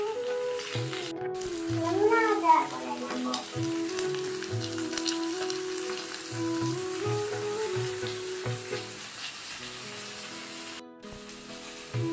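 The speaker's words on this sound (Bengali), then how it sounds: "গরম তেলে নুরাইয়া আলুটা দিতে ভয় করছে, তার জন্য আমি দিয়ে দিচ্ছি" Potatoes frying in hot oil in a miniature kitchen, a steady spraying sizzle that holds evenly close up, with faint intermittent background sounds and no clear speech.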